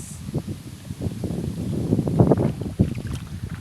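Gusty wind roars across the microphone, buffeting in uneven bursts with a low rumble throughout.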